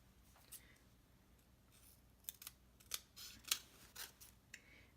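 Scissors snip through dimensional foam adhesive pieces while a card is being made, a series of crisp close cuts, sparse at first then quicker and clustered, over a quiet background.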